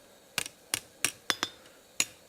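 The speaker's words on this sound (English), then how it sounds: "I'm also going to now hammer it on the edges" Hammer blows ring out on the edges of a forged steel spatula, six sharp metallic strikes at an uneven pace, some with a quick rebound tap, close and clear against a quiet room.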